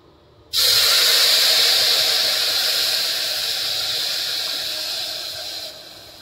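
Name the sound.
hot water poured into a pan of roasted lapsi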